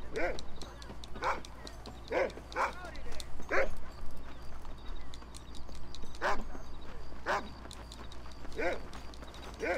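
A dog in the Red Dead Redemption video game barks in repeated sharp bursts, fairly close, with horse hooves clip-clopping and a low steady hum underneath.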